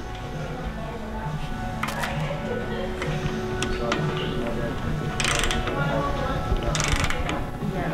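A wrench tightens the handlebar top clamp on a 2019 Harley-Davidson Street Glide, giving scattered ratcheting clicks and a few sharp metallic bursts over a steady background hum.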